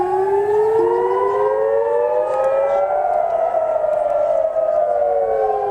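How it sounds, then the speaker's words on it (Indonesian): Air raid warning sirens wail across Israeli cities during a declared emergency, several overlapping rising and falling tones sounding steadily and loud for the whole stretch, with no talk. "Sirine meraung di kota-kota Israel dan keadaan darurat diumumkan"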